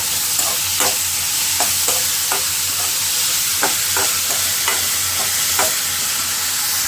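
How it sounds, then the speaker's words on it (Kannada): Noodles being stirred with a spoonful and a half of salt in a pan, the utensil scraping in a steady series of separate strokes over a soft continuous sizzle, with no voices. "ನೀಟಾಗಿ ಮಿಕ್ಸ್ ಮಾಡ್ಕೋಬೇಕು."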